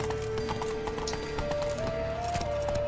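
Roach, a galloping horse in The Witcher 3, pounds out rapid rhythmic hoofbeats close by, over a sustained musical tone and ambient game sound, with no talking.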